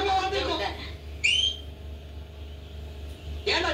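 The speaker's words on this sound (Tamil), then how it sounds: "ஏண்டா நீ வேற விசில் அடிச்சு பயமுறுத்துற?" A person gives a short rising whistle in the middle of a brief stretch, with voices from a Tamil comedy scene talking just before and after it.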